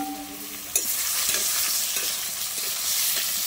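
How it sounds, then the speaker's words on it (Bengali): Potatoes and ridge gourd fry in a pan, a bright continuous sizzle that swells as pieces drop in, with occasional scraping stirs, close and alone. "ভালো করে ভেজে নেব।"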